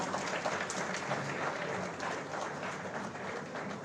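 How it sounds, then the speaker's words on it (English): Sustained audience applause fills a college convocation hall, dense continuous clapping from many hands at moderate level throughout, with no talk over it. "Please applaud, please."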